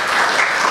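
Audience applause at a leadership discussion event, a short dense burst of many hands clapping at steady loudness.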